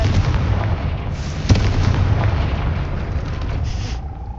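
A Confringo fire spell in Hogwarts Legacy bursts with a deep booming explosion and a sharp crack near the middle, followed by a rumbling, crackling roar that fades toward the end.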